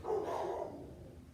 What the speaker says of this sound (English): you'll hear the insanity that is two Labradors when the doorbell rings.